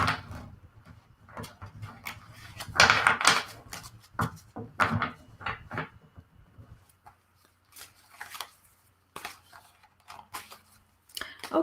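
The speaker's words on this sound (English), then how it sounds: "I'm just going to shuffle my deck one last time." A tarot card deck being shuffled indoors, with soft riffling and tapping bursts of cards in irregular clusters, fairly quiet and close, with no speech.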